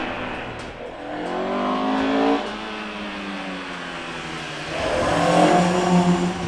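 Engine of a 1965 Ford Cortina race car with a modified racing motor, revving up and down in two surges, loud and close with no talk.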